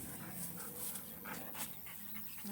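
Dogs on a farm pant quickly and softly whimper near a mouse nest, a faint, breathy rhythm of quick breaths heard fairly close under light background noise.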